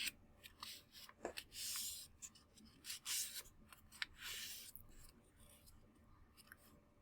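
Square origami paper being folded and creased by hand gives soft, close rustles, scrapes and crinkles that come in irregular bursts over several seconds.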